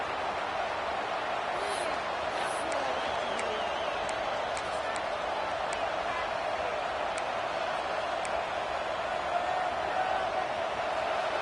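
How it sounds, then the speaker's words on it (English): A steady, dense crowd roar fills a large football stadium, unbroken and loud throughout, with a few faint sharp clicks and whistles above it. "Listen to this crowd just shaking the girders of this place"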